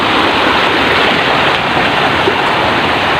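Sea waves roll in at high tide at a shoreline fishing spot, making a loud, continuous rushing wash with no pauses or voices.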